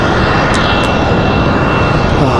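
An airplane waits at Raleigh-Durham International Airport, its engines giving off a loud, dense, continuous roar close by that stays steady throughout the brief moment.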